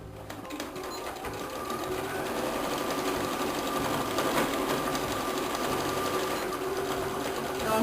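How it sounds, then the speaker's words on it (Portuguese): A sewing machine runs a steady straight seam along the side of a zippered fabric pencil case, its needle whirring in a fast, even rhythm, close and alone. "Vou passar uma costura reta, fechando este lado."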